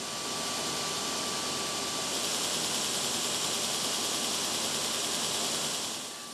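Vertical-axis Francis turbine in a 34-megawatt hydroelectric power plant, a steady broadband rushing hum with a faint constant tone, unchanging and fairly loud before easing at the end.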